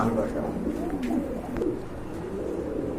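A pair of pigeons coos in low, rolling murmurs close by, with faint background clatter and no clear voices.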